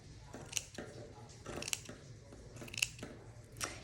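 Scissors snip through craft material for a bow, with several short crisp cuts spaced about a second apart, close and fairly quiet.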